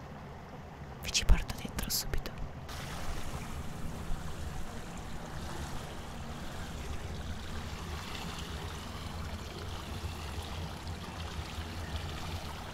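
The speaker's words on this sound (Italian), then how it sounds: "Quello che sentite è il motore della piscina che si è appena avviata" A hotel rooftop pool motor at a five-star hotel has just started, and water flows with a steady low hum and soft rush throughout. A person whispers over it near the start.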